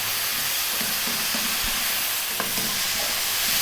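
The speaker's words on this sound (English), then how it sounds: "And just for 1 minute, fry that around." Rice and vegetables stir-fried with soy sauce in a pan sizzle softly and steadily, with a few light scrapes and taps of a utensil against the pan.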